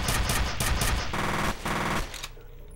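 Rapid automatic gunfire in the video game F.E.A.R., loud dense bursts of rattling shots that stop briefly and resume before cutting off.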